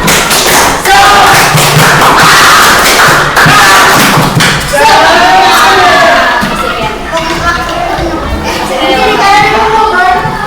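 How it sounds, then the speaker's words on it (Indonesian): A sixth-grade class performs a rhythmic Scout spirit clap, many hands thumping and clapping in patterned bursts, mixed with children's loud shouts and chanting voices throughout. "Tepuk semangat yang pramuka deh."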